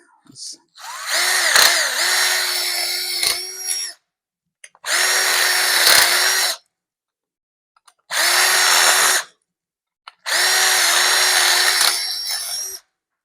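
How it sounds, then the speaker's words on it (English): A power drill running a step bit to deburr freshly drilled holes in metal during a 1971 Datsun 510 restoration, heard as four sustained whining bursts of a few seconds each, separated by short silences, loud and close. "You can kind of just use the step bit to deburr them"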